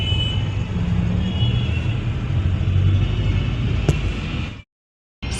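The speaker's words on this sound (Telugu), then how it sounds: "ఈ టైం కూడా ట్రాఫిక్ ఉంది 10:30కి." Steady low rumble of night road traffic heard from inside a luxury sleeper bus in Hyderabad, continuous and fairly loud, then dropping to silence near the end.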